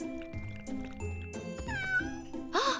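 A small cartoon kitten wearing a collar meows several times in short, high, wavering calls, with quiet clicks and faint background sound between them.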